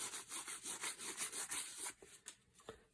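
Excess finish is wiped off a wooden fore end of an Armstrong side-by-side gun with quiet, rhythmic back-and-forth rubbing strokes that slow and thin out toward the end.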